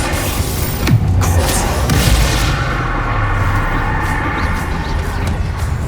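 A Confringo blasting spell explodes in the Hogwarts Legacy video game, a deep boom under constant loud battle noise with rumbling low layers throughout.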